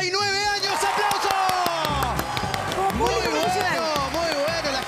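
A Spanish-language television studio audience claps and cheers for a 49th birthday, a dense, loud wash of applause with shouts and chatter running throughout.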